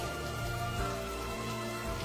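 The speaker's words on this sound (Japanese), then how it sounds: "雨。" Steady rain falling in a One Piece anime scene, a dense, even hiss of drops that stays constant and fairly loud throughout, with no voices.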